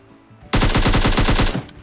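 Automatic gunfire in the PUBG Mobile shooter game, a single loud rapid burst of about a dozen evenly spaced shots lasting roughly a second, then cutting off abruptly.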